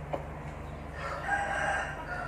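A seven-month-old young rooster crows once, a short, somewhat faint call that rises and holds, over a low steady background hum.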